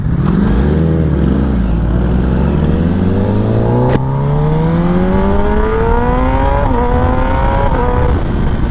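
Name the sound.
Kawasaki ZX10R motorcycle with SC-Project exhaust, engine revving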